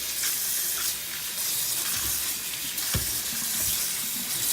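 Baby potatoes are rinsed with salt under a running kitchen tap, giving a continuous splashing stream with occasional knocks and shifts as they are handled in the sink.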